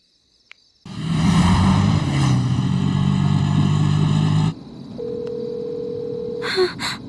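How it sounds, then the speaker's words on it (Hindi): A phone ringtone plays loudly for a few seconds, then stops, leaving a quieter steady tone and a couple of short beeps. "इतनी रात में किसका फोन आ रहा है?"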